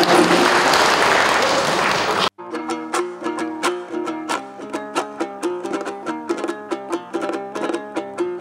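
Audience applause at a 2022 Kyrgyz aitysh improvised-poetry contest, a dense roar of clapping for about two seconds that cuts abruptly into rhythmic plucked-string music.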